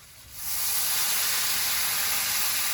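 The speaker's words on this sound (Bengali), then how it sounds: "আলুটা ভাজা হয়েছে এবার জল দিয়ে দেবো" Water poured into a pan of frying potatoes erupts into a loud, steady hiss of sizzling steam that swells within half a second and holds strongly to the end.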